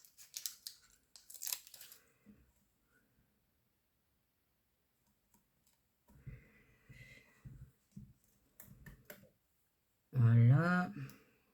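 Scissors snip paper while a steampunk card is being cut out: a few short crisp cuts at the start, then scattered clicks and handling noises through quiet gaps, with a brief spoken phrase near the end.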